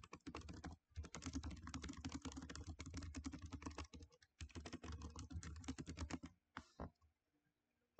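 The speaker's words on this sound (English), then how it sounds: "then typing the text that I want it to say" Typing on a computer keyboard: rapid, close key clicks come in uneven bursts separated by short pauses, ending with a few scattered taps and a final sharp click.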